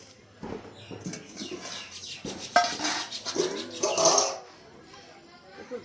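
A wok is set onto a lit stove burner at home with a brief metallic clatter and scrape, and a voice is heard faintly in the background.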